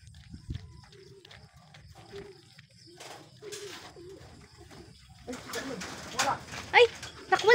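Soft, low cooing from racing pigeons during a race, faint and intermittent near the birds, with quiet talking and some rustling and knocks growing louder toward the end.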